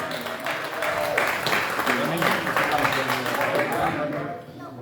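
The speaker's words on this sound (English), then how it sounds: "round of applause for all the amazing musicians earlier in the show" Comedy club audience applauding the musicians from earlier in the show, a steady wash of clapping and cheering that fills the room for several seconds before tapering off, with voices mixed in.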